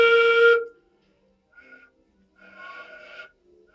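A flute blown across its embouchure hole: a clear whistling tone sounds briefly at first, followed by weaker, breathy airy attempts after a short pause, all quiet and close.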